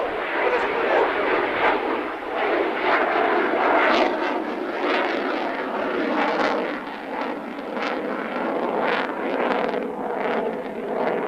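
A military jet roars steadily overhead at an airshow in Salinas, California, loud and sustained with wind buffeting, while an announcer talks over it.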